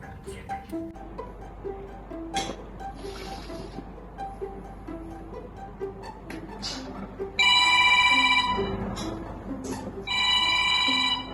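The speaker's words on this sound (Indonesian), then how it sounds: "Telepon." A telephone rings in bursts of bright repeated electronic trills, loud and close, amid scattered speech and background sounds.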